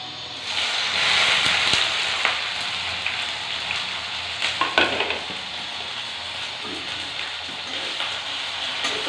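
Onions frying in hot oil for Odia-style chicken kasa, a steady close sizzle with occasional stirring scrapes and clatters of a spoon in the pan.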